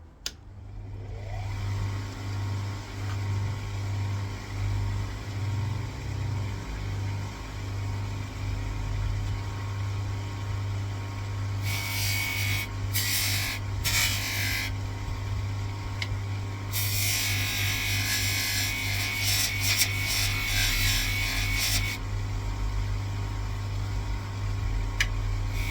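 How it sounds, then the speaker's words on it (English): A steel rifle butt plate from a relic British Lee Enfield is polished on a spinning coarse nylon wheel, with a steady motor hum and bursts of harsh, hissing grinding as the metal is pressed to the wheel. "I'll start on the coarser nylon wheel first."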